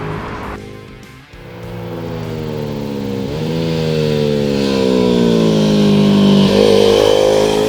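A 2015 KTM RC390 small sport bike rides on the street, its single-cylinder engine revving up and down through the gears. It is loud and steady with rising pitch sweeps and no voices.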